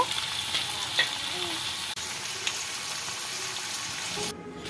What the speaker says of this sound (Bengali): ওইগুলো আমি তেলের মধ্যে দিয়ে স্বাদ মতো লবণ দিয়ে অল্প ফ্রাই করব।